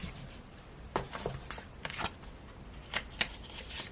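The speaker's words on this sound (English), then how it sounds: "Let's pull a few more cards." Tarot cards shuffled and pulled from the deck in quiet, close bursts: soft riffling flicks and sharp slaps and snaps spread irregularly across a few seconds.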